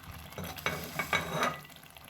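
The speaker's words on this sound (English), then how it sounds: "I'm turning it together so that the fish can soak inside the soup." Fish being stirred into a pot of egusi soup, with soft irregular scraping and stirring strokes over a faint low simmer, close and alone without talk.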